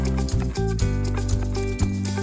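A horse moves close by with a string of hoof clip-clops, a few sharp steps over a steady tonal music background, with no clear neigh.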